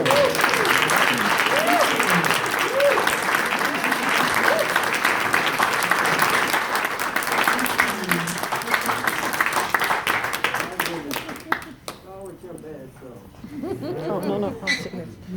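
An audience at a cultural gathering at a museum applauds in a long, dense wave of clapping that fades out, followed by voices and light laughter.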